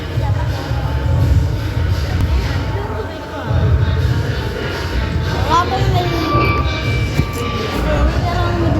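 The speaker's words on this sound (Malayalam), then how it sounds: "നമ്മൾ ട്രെയിനകത്ത് പോയിക്കൊണ്ടിരിക്കുന്നത്" A train in the Roblox video game rumbles steadily in motion with a brief rising squeal, while a voice talks over the noise.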